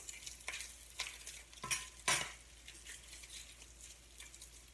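Pulled pork fries in its own grease in a single pan, crackling and hissing steadily up close, with a few louder scraping stirs partway through and no talking.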